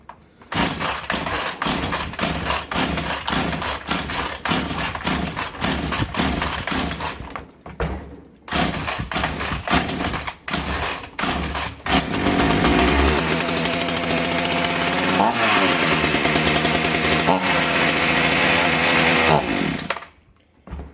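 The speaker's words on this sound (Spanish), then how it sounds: "Bueno, ya vemos que el problema no es grave porque la máquina arranca." A Chinese chainsaw's two-stroke engine is pulled over and fires, rattling and popping through brief stalls before it revs hard and holds a loud, continuous high-pitched run at close range, then cuts off abruptly.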